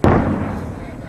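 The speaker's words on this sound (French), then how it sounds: "Ah non, c'est mortier et fume." A single heavy, booming mortar blast in combat in Afghanistan opens with a sharp attack and then a long rumbling decay, loud and close, with no other sounds.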